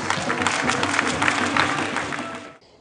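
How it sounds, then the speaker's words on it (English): Audience applause in a crowd at a live event honouring a woman, steady dense clapping filling the space before cutting off abruptly near the end. "let us keep clapping for this great idol in a woman"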